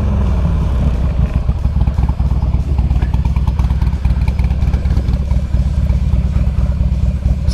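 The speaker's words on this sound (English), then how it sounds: "She's got an aftermarket exhaust." A 2007 Buell XB12X Ulysses motorcycle with a loud aftermarket exhaust rumbles close by, a deep, throaty, steady roar with rapid chugging pulses and no talking.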